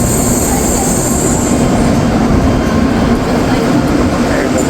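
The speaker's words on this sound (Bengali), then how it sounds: "এই যে বুলেট ট্রেন, জাপানের বুলেট ট্রেন।" A Japanese bullet train pulls into a busy station, filling the air with a loud, continuous rail roar, rumbling wheels and faint squeals, while a voice speaks quietly underneath.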